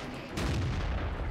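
A tank cannon fires in the online game World of Tanks, one heavy boom that breaks in suddenly and rolls on as a dense, loud rumble with no speech over it.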